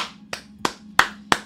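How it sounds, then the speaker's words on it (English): A single person claps slowly and deliberately, five crisp, evenly spaced hand claps about a third of a second apart, close to the microphone over a faint hum, with no voices. "Can we all just give a round of applause to the wife"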